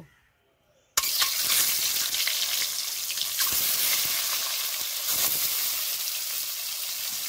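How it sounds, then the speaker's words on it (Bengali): Boiled eggs dropped into hot oil with salt and turmeric for egg curry, setting off a sudden loud, steady sizzle after a second of silence that continues with faint crackles. "এবার ডিমগুলো ভালো করে ভেজে নেব।"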